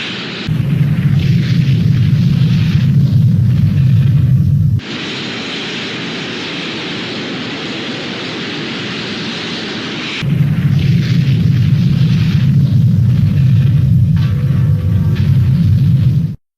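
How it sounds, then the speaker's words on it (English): The Titanic sinking: a long, loud roar of hissing steam with a deep rumbling low end that drops away in the middle, leaving a bright hiss, then surges back to full force before cutting off abruptly. "Just a long loud hissing, roar, followed by an explosion"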